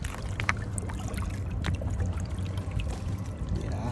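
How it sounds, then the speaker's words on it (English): A rock being rinsed in lake water at Douglas Lake in Tennessee: close splashing and trickling with small sloshes and drips, moderately loud over a low outdoor rumble, with no talking. "Let's see if I wash it off"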